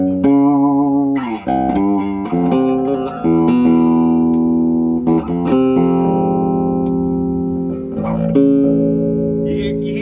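A 1973 Alembic bass with its onboard preamp and the mids turned fully up plays a run of sustained, ringing notes with a bright, punchy midrange, heard alone and fairly loud throughout.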